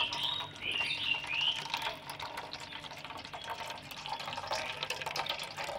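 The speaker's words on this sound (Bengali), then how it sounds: "ছেঁকে এভাবে করে রসটা বের করে নিতে হবে" Grated raw potato juice is strained through a sieve into a bowl, giving close, wet trickling and dripping with soft squelching, moderately quiet and with no talk.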